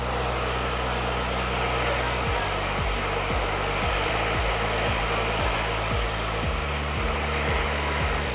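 A hair dryer blows continuously while curly hair is dried and lifted at the roots, producing a steady loud airy whoosh with a low motor hum, close and unbroken, with no talking.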